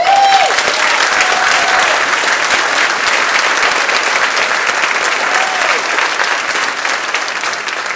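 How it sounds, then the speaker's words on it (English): Loud, sustained applause from a large audience at an Air Force ball, honoring the chaplain, with dense clapping filling the whole stretch and fading only slightly toward the end. "help me give this young man a round of applause"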